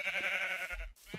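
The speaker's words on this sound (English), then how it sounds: "Okay, that's a black sheep." A sheep in the video game Minecraft bleats once in a clear, wavering tone, close and moderately loud, followed by a short low thump.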